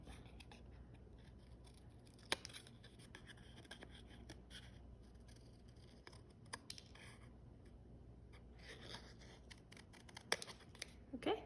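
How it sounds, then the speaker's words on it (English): Small scissors snip through watercolor paper while a heart shape is trimmed from the excess, producing faint, close, irregular crisp cuts and paper rustle spread across the stretch. "you can even just cut off the excess paper first"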